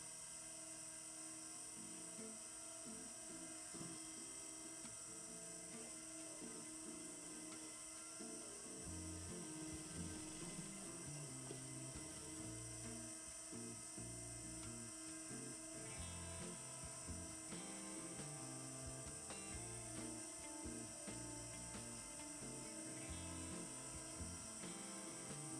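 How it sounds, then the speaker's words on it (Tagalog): A sewing machine stitches the front and back pieces of running shorts together with a continuous whirring motor hum and a rapid rhythmic needle clatter, steady and unbroken for the whole stretch, quiet and close with no talking. "Dito po natin tatahiin. Pagdidikitin po natin yung harap at likod na short."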